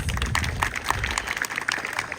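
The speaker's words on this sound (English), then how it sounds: "You might like to give her a round of applause" An outdoor crowd at a bird show at an Australian wildlife sanctuary applauds an owl, a short steady patter of clapping heard from a modest distance with some low background noise.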